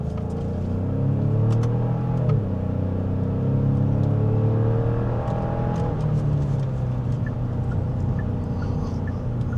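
2026 Genesis GV70 SUV accelerating on the road, a steady close cabin rumble of engine and road noise with rising, shifting engine tones as it pulls harder, continuous and without talk.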